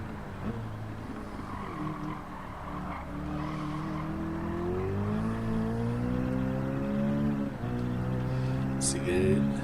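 A stock race car in Gran Turismo 7 revs and accelerates through rising and falling engine tones, with brief tire squeal near the end and a voice talking faintly underneath.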